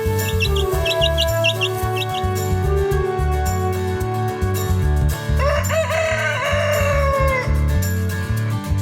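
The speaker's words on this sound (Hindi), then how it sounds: "अब तो सबके पास अपनी मुर्गियों का फार्म है" A cartoon village poultry farm, with hens clucking in quick bursts over a busy music bed, then a loud rooster crowing with a long drawn-out cock-a-doodle-doo near the end.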